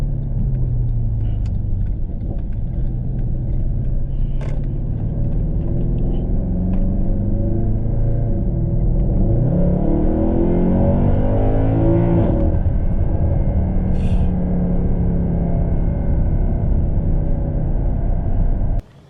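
A 2011 Mercedes-Benz E63 AMG with the Carbon Performance Package accelerates hard, its deep V8 rumble dropping briefly on a quick downshift before rising through a long, loud pull from inside the cabin.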